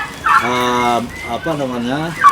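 Domestic turkeys on a farm let out loud, close, warbling gobbles, two drawn-out calls one after the other with a brief pause between.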